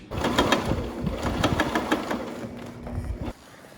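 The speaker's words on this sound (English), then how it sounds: "And then we'll sew down this edge." A sewing machine stitches down the edge of a vinyl rooftop tent cover with a fast, rhythmic mechanical chatter. It runs for about three seconds up close, then stops.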